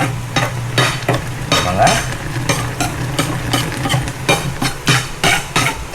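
Meat cooks with Sprite in a pot, giving a steady close bubbling hiss broken by frequent sharp clacks and scrapes of a utensil stirring against the pot.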